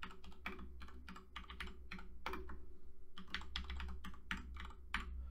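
Typing a collection name into a media library's tag field on a computer keyboard, a quick uneven run of crisp close keystrokes with brief pauses, heard alone without talk.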